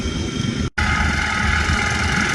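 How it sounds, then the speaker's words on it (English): A Cub Cadet 1650 garden tractor runs at an antique power plow day, a steady low engine drone with a brief dropout, then the same constant hum, close and fairly loud, no voices. "Nice little tractor."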